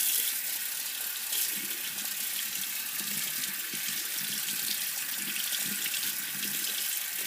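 Steady running water from a tap as a makeup brush is rinsed under it, a continuous hiss and splash at close range with no talking.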